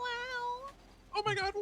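A pet cat lets out a long drawn meow followed by a couple of shorter ones, close by, with a person's exclamations overlapping the later calls.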